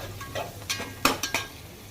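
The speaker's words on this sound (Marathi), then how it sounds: "तर पूर्णपणे शिजवून घेऊ कांदा टमॅटो मिरची" Onion, tomato and chili frying in a pan, a soft sizzle with a few distinct scraping stirs of a spoon against the metal, close and brief, with no talking.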